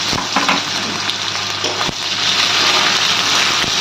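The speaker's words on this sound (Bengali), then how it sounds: "আমরা এই তেলে এবার দিয়ে দেবো পেঁয়াজ কুচি" Chopped onion frying in hot oil gives a loud, dense sizzle with occasional sharp clicks of stirring, continuous and close for the whole span with no voices.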